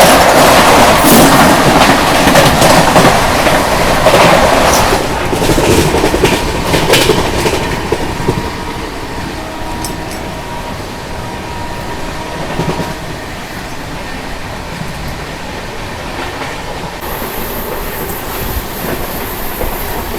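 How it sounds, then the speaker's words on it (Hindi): The Mangala Express passes close alongside on the adjacent track, giving a loud rushing roar with clickety-clack wheel rhythm that slowly eases off, plus a brief high squeal near the end. "बगल से भी क्रॉस होने वाली है मंगला एक्सप्रेस।"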